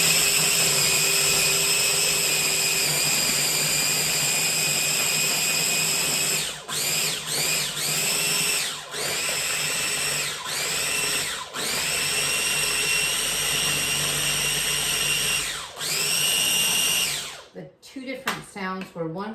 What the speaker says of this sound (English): this is again a Cuisinart but mini mixer